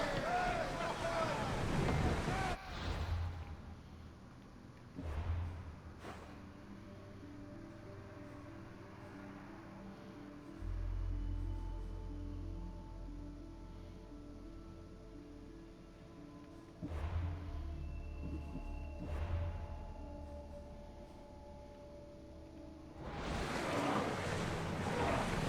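A ship sailing on sea waves in Assassin's Creed Odyssey gives a steady wash of wind and surf that swells and drops in level, mixed with other game sounds and voices.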